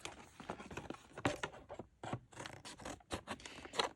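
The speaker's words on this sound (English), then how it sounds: "Cue old pair of scissors to get this open." An old pair of scissors snipping and scraping through tough sealed plastic packaging, a run of close, crisp irregular cuts and crackles.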